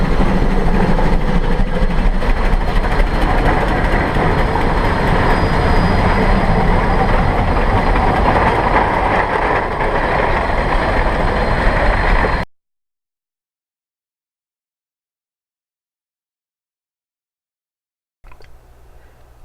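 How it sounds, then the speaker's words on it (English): Passenger train at Cass Scenic Railroad, West Virginia, passing near Leatherbark Creek during a rail fan weekend, giving a loud steady rumble of rolling cars and engine that cuts off abruptly, leaving silence before faint noise returns. "the other side of the track, with a passenger train"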